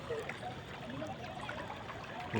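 Flood water rushing over a road at Ban Klang Noi, Tha Bo, Nong Khai, a steady close trickling and gurgling flow with faint voices in the background.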